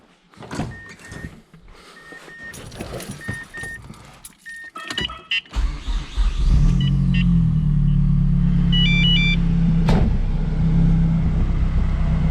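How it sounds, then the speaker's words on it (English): Mazdaspeed 3 being started for a drive: several seconds of door and cabin clatter and clicks, then the engine catches and settles into a steady, loud idle rumble, close up. "So bonnet's closed, jump in and take it for a quick spin up the road."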